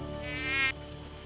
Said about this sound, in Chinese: 哎呦，有蚊子了！